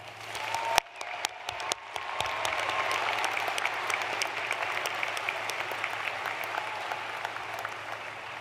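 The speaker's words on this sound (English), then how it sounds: "Let's have another round of applause for our speaker, Crystal Magallet." Large crowd applauding at a Utah Valley University commencement ceremony in 2025, a dense steady wash of clapping that starts with a few sharp claps and swells to sustained applause across the hall.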